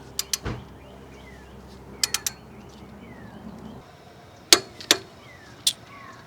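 Bolt on a first-generation Honda CR-V engine tightened during a timing belt and seal job: close, crisp ratchet clicks in short clusters, a pair, then a quick triple, then a few spaced single clicks, over a quiet background.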